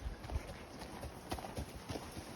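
A horse walks along a trail at Indian Creek, hooves clip-clopping in an uneven steady rhythm on the ground, close and moderately quiet over light outdoor background noise.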